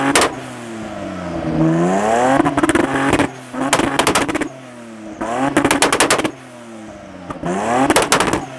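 Sharp, loud bangs and crackles from a car exhaust backfiring, in rapid machine-gun-like bursts between surging engine revs, recurring several times as cars leave a car meet.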